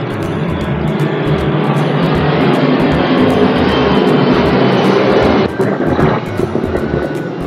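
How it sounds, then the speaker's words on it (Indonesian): An airplane passes overhead with a loud, steady broadband roar that holds for several seconds, then eases off toward the end. "Tunggu sebentar ya, soalnya ada pesawat lewat."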